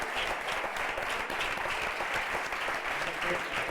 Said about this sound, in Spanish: un aplauso a Francis